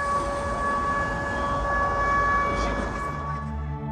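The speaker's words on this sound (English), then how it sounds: "I was shooting an interview, and an air raid siren went on." An air raid siren wails steadily across a Ukrainian city, a sustained loud tone filling the whole stretch with rumbling street noise beneath and no talk.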